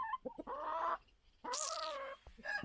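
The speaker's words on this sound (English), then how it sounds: "This is all the other chickens" Several chickens cluck and squawk nearby in short bursts on a croft in the Outer Hebrides, one rising into a louder drawn-out call, with no talking.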